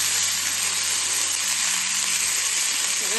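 Thinly sliced eggplant sizzles in a hot pan for a dry tiffin vegetable dish, giving a loud, steady, unbroken frying hiss with no talking.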